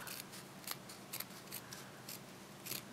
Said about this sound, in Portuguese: E vou cortar esse excesso aqui, ó.